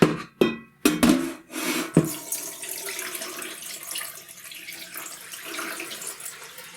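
Water pours off washed Japanese rice as it is drained, a few sharp splashing bursts at first followed by a steady trickling, gurgling flow into a sink, with no talking.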